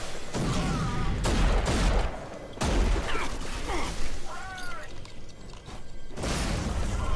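Rapid gunfire from the video game RAGE fills the passage, dense bursts of close, loud shots and booms over continuous action noise, with a few brief gaps between volleys.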